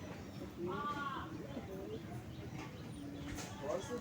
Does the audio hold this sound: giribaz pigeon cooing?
yes